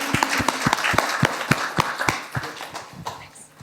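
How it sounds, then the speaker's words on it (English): A small audience claps briefly during an informal talk on aesthetics, sharp individual claps in an uneven rhythm rather than a dense ovation, fairly close and fading toward the end. "Round of applause."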